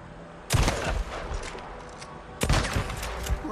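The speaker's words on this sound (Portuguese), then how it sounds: "Ele atirou em mim!" Gunfire in the video game Days Gone: two sharp bursts of rapid shots, close and loud, separated by a couple of seconds of lower background noise.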